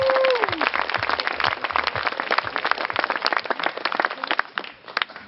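At an outdoor poetry slam final in a park, an audience gives a welcoming round of applause, a dense steady patter of many hands clapping that fades slightly at the end.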